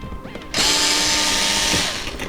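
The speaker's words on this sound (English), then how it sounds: "I will remove these 2 screws here." A power screwdriver whirs steadily for under two seconds while removing screws from an old Yamaha EX5 synthesizer keyboard, close and fairly loud after a brief quiet start.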